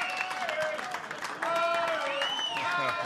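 A pub crowd at Payneham Tavern cheers and claps for two rugby World Cup winners, the applause and whoops sitting in the background beneath someone talking near the microphone.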